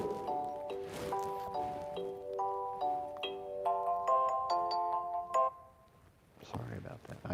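A mobile phone ringtone plays a repeating stepped melody of bright tones for several seconds, fairly loud in a room, stopping before a rustle of handling noise.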